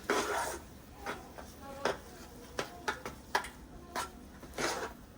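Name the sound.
stirring potatoes in a pot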